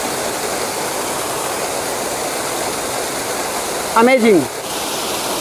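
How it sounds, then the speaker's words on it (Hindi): Chandri waterfall in Kaimur, Bihar, with water plunging into a pool below: a steady, loud, close broadband roar of falling water throughout, with a man briefly exclaiming near the end. "अभी हम आपको चांदरी वाटरफॉल बिल्कुल पास से दिखा रहे हैं, जो नीचे पानी गिर रहा है"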